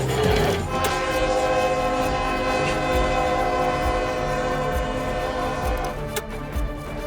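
An old locomotive sounds a long, steady horn or whistle while rail cars rumble and clack underneath, loud and close, continuing for several seconds.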